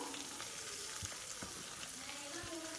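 Chicken with cabbage, carrot and green chilli lightly frying in a pan, a short, faint but steady sizzle with a couple of soft knocks.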